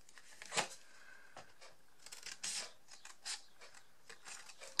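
Scissors cutting through folded paper, a few sparse crisp snips and rustles, close but quiet, with no talk.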